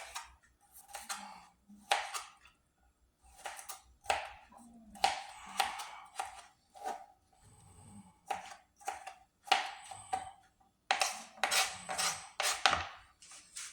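A sharp knife chops radishes and tomato for Mexican salsa fresca, giving irregular runs of crisp, close cutting knocks with short pauses between them.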